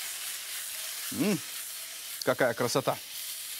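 Garlic sizzles in a frying pan with oil as a warm Russian-language cooking dish is made, a steady soft hiss under brief speech from the cook.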